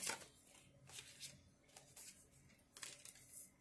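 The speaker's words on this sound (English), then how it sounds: "I never had this much difficulty shuffling this deck." Soft, quick riffling and flapping of playing cards being shuffled in several bursts, close by and quiet, with no speech.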